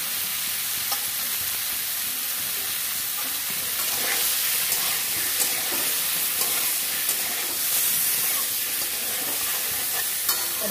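Turmeric-coated rohu fish pieces fry in hot oil, giving a steady loud sizzling hiss with scattered crackles and pops throughout.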